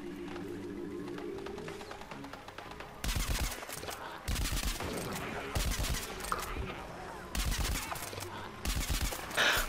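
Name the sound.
gunfire in video game Plants vs Zombies Garden Warfare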